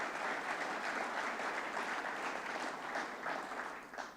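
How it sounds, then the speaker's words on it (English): Sustained audience applause at an opening speech for Green Aruba 2015, a dense, steady wash of many hands clapping close and loud throughout, tapering slightly near the end. "Let's give a hand of applause to the people of Grenada."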